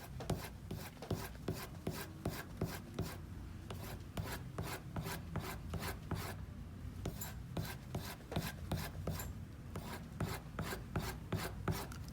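A knife blade drawn straight down in final finishing strokes on a leather strop after sharpening: rapid, evenly spaced scraping rubs repeated many times, close and dry, with no talking.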